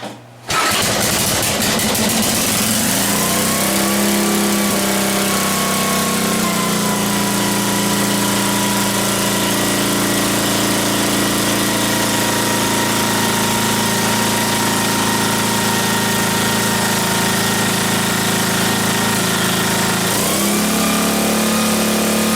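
A choked Sears Roto-Spader tiller engine, smoky and burning oil, cranks and fires at once, then runs loud and close with a steady putter, its pitch rising and settling as the throttle shifts.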